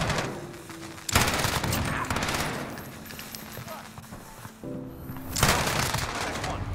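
FiNN LMG gunfire in the video game Modern Warfare, with loud sustained bursts of rapid automatic fire in two stretches separated by a quieter gap, and a voice talking over it.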